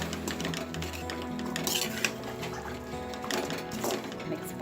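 Potatoes and carrots are stirred in a pan for vegetable bread biryani, giving steady scraping and clinking of a utensil against the pan, with brief louder knocks, under ongoing background sound.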